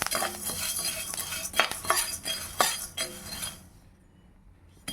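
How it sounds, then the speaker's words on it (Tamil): Lentils with their husks fry in a pan with other dal for a drumstick-leaf idli podi, a spoon clinking and scraping as it stirs in irregular strokes, then the sizzle fades to near quiet. "பாருங்கள், பொரியிற சத்தம் கேட்குது."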